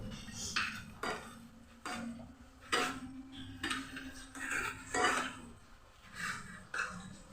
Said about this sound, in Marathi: छान तुपामध्ये परतून परतून भाजून घ्यायचं